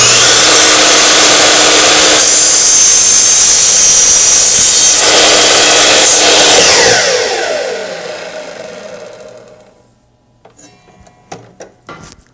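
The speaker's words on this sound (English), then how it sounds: "Let's cut this wood." A miter saw cuts through wood with a loud, sustained whine and bite for several seconds, then spins down and fades to quiet, leaving a few soft clicks and handling knocks.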